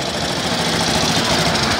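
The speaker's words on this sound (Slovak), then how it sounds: "Ďalší štvorták BSA so šikmým válcom, nazýva sa Sloper, vyrábal sa v Birminghame, môžeme tiež odštartovať." Single-cylinder four-stroke BSA Sloper motorcycle with inclined cylinder, built in Birmingham, runs loud and close with a steady rough idle and continuous engine knock.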